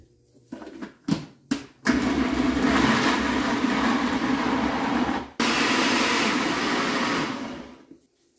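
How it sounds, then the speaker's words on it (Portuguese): A home blender runs loud and steady while blending a tapioca mixture, after a few short start-up pulses, then cuts briefly and continues before winding down. "para não pesar muito o liquidificador."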